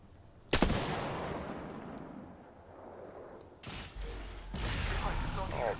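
Gunfire in a multiplayer shooter video game, with a sharp loud shot burst followed by rolling reverberant rumble, then further heavy firing bursts and mechanical clatter under a voice talking.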